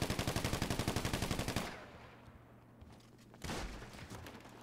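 Gunfire in a GTA roleplay game: a rapid automatic burst of evenly spaced shots rattles loudly for over a second, then quieter ambience with faint pops before another short loud volley near the end.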